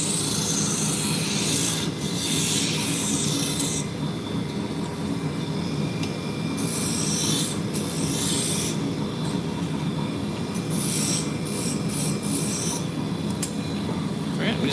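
Wood spins on a lathe while a spindle gouge scrapes and rasps against it in repeated bursts, over a steady motor hum.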